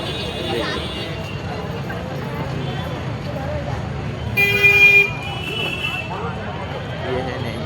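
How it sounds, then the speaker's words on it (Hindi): Evening traffic on the streets of the Nainital hill station: a steady road rumble with murmuring voices, broken midway by a single bright car horn toot. "शाम के समय काफ़ी ट्रैफिक रहता है।"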